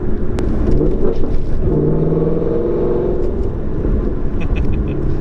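Deep, loud engine rumble of a 2016 Ford Mustang GT with 50,000 miles, running steadily, rising briefly in pitch as it revs, heard up close.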